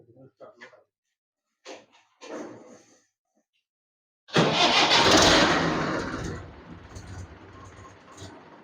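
A Swaraj tractor engine with a starting problem cranks and catches after a few seconds of quiet, bursting into a loud, close rumble that settles toward a rougher idle, with people talking briefly beforehand.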